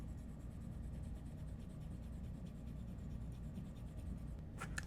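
A pencil stylus draws across a paper-feel screen protector on an iPad Pro 13-inch, giving a faint, continuous soft scratching with light repeated strokes, close and quiet, alone.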